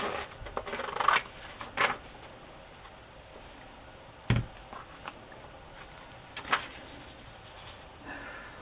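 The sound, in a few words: cutting paper for a collage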